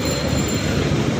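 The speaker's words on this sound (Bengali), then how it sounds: "এখন আমি মেট্রোতে চড়বো," Metro train wheels squealing on the rails, a loud, continuous high metallic screech with rumbling underneath, heard up close and alone without talk.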